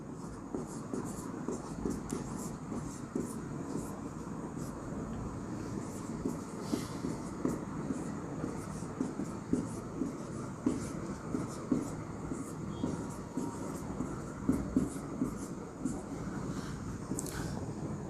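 Pen or pencil scratching notes on paper while a Class 9 physics lesson on CGS units is copied down, a steady soft scribbling texture running throughout at close range with faint background rumble.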